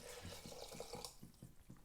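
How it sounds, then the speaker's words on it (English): Pitcombe limestone spring water pours over vegetables in a pan, a close, soft gurgling stream with rhythmic glugs as it fills, quiet and alone. "I want to pour the water in to cover the vegetables"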